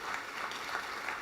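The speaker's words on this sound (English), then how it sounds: "Let's give them a round of applause." Audience applause at a University of Pikeville Delta Dental announcement honoring student athletes, a steady even wash of clapping throughout, moderately quiet and with no voices over it.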